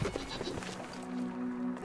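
Goats bleat in the video game Brothers: A Tale of Two Sons, a short wavering animal cry in a quiet game scene.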